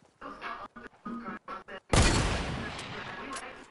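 A sniper rifle shot in Fortnite cracks out loud and sudden, its boom trailing off over a second or two, following several short bursts of speech.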